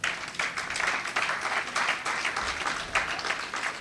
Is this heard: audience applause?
yes